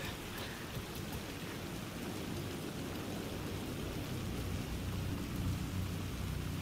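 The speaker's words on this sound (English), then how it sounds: "I love that it's raining." Steady rain pours in the video game Alan Wake 2, a dense unbroken hiss with low rumbling thunder underneath, loud and continuous throughout with no voices.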